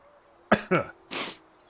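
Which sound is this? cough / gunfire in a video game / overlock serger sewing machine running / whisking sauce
cough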